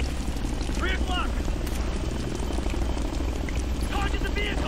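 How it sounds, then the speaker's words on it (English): A helicopter in the video game Tom Clancy's Ghost Recon Future Soldier gives a steady, loud rotor roar that runs through the whole scene beneath combat voices and game noise. "Incoming chopper!"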